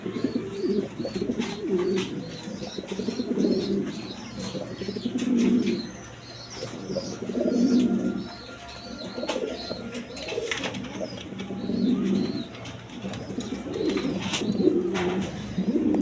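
A fancy pair of red Jacobin pigeons coos close by in repeated, rhythmic low rolling phrases, with faint chirps and rustling in the background.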